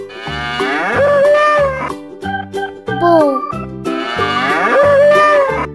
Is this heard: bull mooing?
yes